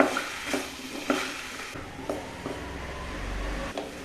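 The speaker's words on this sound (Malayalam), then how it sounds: "ഇനി ഇതിലേക്ക് ആ കഷ്ണങ്ങൾ ഇട്ട് ഒന്ന് ഇളക്കുക." Okra pieces stirred into a tomato curry in a pan give a soft sizzle broken by a handful of scraping, clinking spoon strokes at irregular intervals, close up with no voices.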